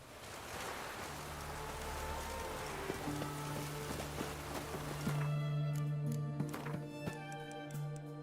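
Steady rain falls in a video game, a soft continuous patter with scattered drips and a low hum, fairly quiet and without talk.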